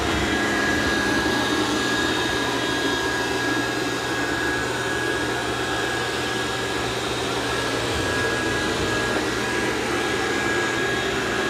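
A Dreame D10 Plus robot vacuum runs on high suction with a loud, steady motor whir, a thin high whine riding on top. The sound stays constant throughout, with no talking.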